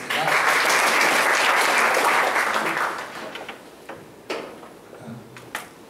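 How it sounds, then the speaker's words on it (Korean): An audience in a seminar hall gives a presenter a burst of dense applause that holds for about three seconds, then thins to a few scattered claps and small knocks from the stage. "여러분 박수 부탁드리겠습니다."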